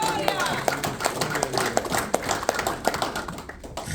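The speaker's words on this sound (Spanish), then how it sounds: "Dale un aplauso a Cristo que esta noche" A church congregation claps at a service, giving a brief burst of dense, rhythmic applause with scattered taps, under a continuing voice.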